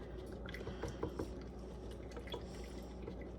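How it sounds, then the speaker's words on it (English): A honey Dijon vinaigrette of vinegar and olive oil is whisked in a bowl, giving a steady wet clatter and swish of rapid strokes, close and moderately quiet, with no talk over it. "I'm just gonna whisk this together"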